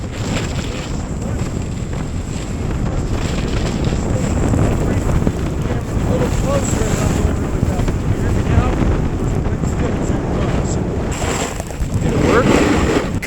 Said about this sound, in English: You can hear my board scraping